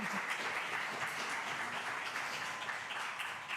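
A congregation applauds its board of trustees during a Sunday church service, producing a dense, even wash of clapping that is fairly faint and sustained without a break.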